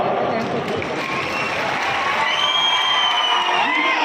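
A political rally crowd claps, cheers and whoops together in a loud, continuous burst that builds slightly, with shouting voices mixed into the applause.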